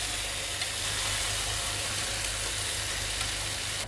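Chicken cutlets for chicken piccata frying in a pan, a steady, loud, close sizzle with broad hissing crackle and no pauses.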